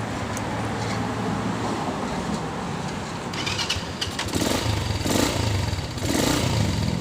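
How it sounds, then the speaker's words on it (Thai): A Ryuka Infinity 125 motorcycle engine starts partway through and runs with a rough, uneven idle, rising in bursts over steady background noise. "สตาร์ทฟังเสียงเครื่องยนต์ดู"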